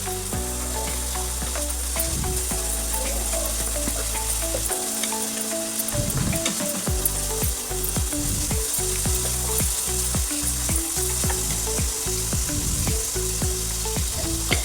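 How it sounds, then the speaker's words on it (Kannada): Masala sizzles loudly and steadily in hot oil for a paneer dish while a spoon scrapes and clatters against the pan in irregular strokes, with no voices. "ಮಿಕ್ಸ್ ಮಾಡ್ಕೊಂಡು ಅದ್ರದ್ದು ಎಲ್ಲ ಹಸಿ ಸ್ಮೆಲ್ ಹೋಗೋವರೆಗೂ ನಾವೇನ್ ಮಾಡೋಣ್ರಿ, ಫ್ರೈ ಮಾಡ್ಕೊಳ್ಳೋಣ್ರಿ"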